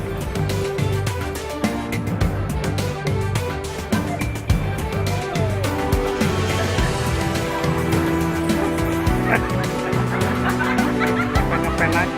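Fowl, including chickens in a reality competition, cluck and squawk loudly and almost without pause, with other busy sounds and a hint of laughter mixed in.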